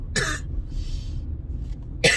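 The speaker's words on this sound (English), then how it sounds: "I still have this cough hanging over it" A person with a lingering cough coughs twice, once at the start and again at the end, each a short harsh burst close by, with a faint breathy rasp in between.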